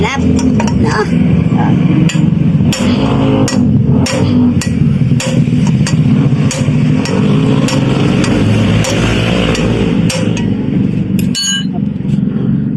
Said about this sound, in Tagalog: Tapos, pupukpukin natin, syempre. Para pumasok sa loob.